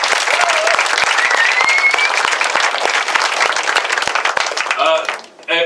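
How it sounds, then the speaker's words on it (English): A wedding dinner crowd gives Dave a loud, sustained round of applause that fades out near the end, with voices mixed into the clapping. "could we just start with a round of applause once again for Dave"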